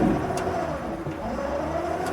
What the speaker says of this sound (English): Now I'm gonna step on the accelerator pedal. We're gonna power brake this.